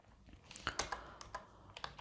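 Computer keyboard keys clatter in a quick irregular run while Java code is typed, close and fairly faint, with no talk.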